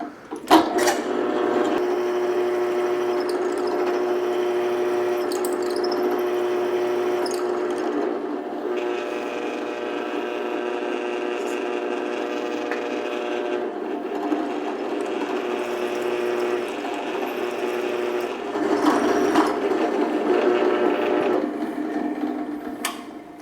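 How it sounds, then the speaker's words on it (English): A power drill whirs steadily for about twenty seconds while drilling a hole in a power soccer wheelchair wheel, a close, constant motor whine with slight shifts in pitch and a louder push near the end. "let's go ahead and drill the second hole"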